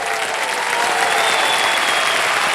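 Studio audience applause on a televised quiz show, a dense, steady wash of clapping filling the room at full volume throughout with no gaps.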